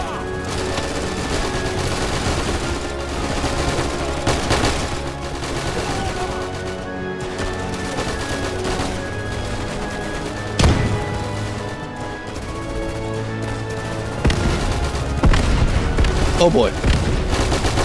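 Heavy gunfire in Easy Red II during the Battle of Stalingrad Volga River crossing: continuous close machine-gun and rifle fire with booming blasts and a sustained battle din, while a player briefly exclaims over it.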